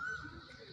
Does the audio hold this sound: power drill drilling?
no